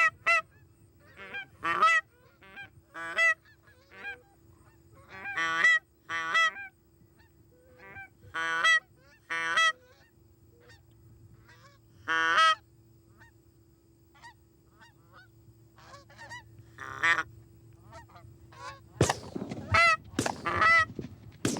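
Geese honking in repeated bursts as flocks pass overhead during a goose hunt, calls near and far with short gaps between them and a louder flurry of honks at the end.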